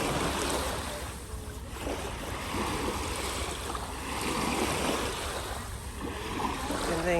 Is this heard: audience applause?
no